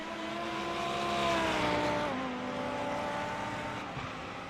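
GT1 and GT3 race cars, including Lamborghinis, racing at Virginia International Raceway, with a loud sustained engine howl whose pitch climbs and drops as the cars pass, steady and near.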